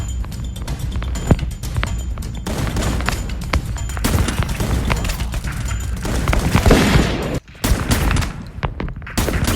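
Rapid bursts of gunfire from a shooter in a survival video game, loud and dense, crackling almost continuously with a brief gap near the end.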